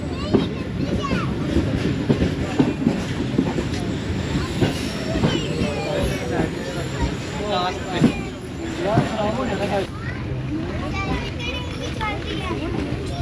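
The Subak Raftar railcar pulls away from Chaklala station on its Gujrat to Rawalpindi run, with rolling wheel clatter, bursts of squealing wheels and rail noise under chatter and children's voices nearby.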